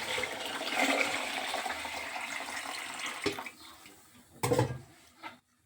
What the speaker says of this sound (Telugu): ఇప్పుడైతే వాటర్ వేస్తుంది